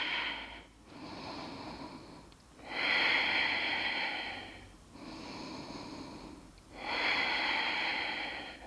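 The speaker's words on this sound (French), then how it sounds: "On respire." Slow, deep breathing during a yoga detox class, with long airy inhales and exhales alternating in a steady rhythm of about four breaths, close and fairly quiet.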